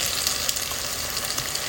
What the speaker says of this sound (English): Notice I'm just kind of frying it and I'm stirring it a lot so it doesn't burn.